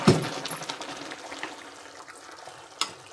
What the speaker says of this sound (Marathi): आता घालूया पाणी पाणी नाही घातलं तर खूप असं बेसनासारखं होऊन जाईल